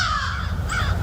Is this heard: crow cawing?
yes